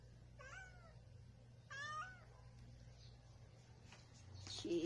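A female cat in heat lets out two drawn-out, wavering meows a second apart, fairly close, over a low steady hum, with a faint higher cry near the end.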